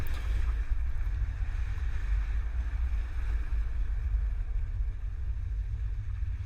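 2021 Toyota carrying a bike rack for four bikes, driving through a slalom test course, heard as a steady low rumble of engine and road noise with wind, continuous and even throughout.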